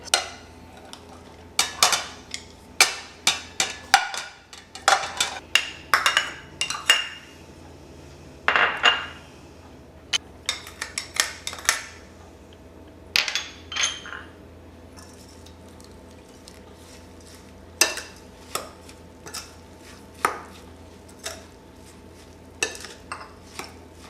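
Tofu marinade ingredients for vegan sisig being stirred together in a big bowl: a steady run of sharp clinks and scrapes of utensil against the bowl, repeated in quick irregular bursts, close and clear with no talking.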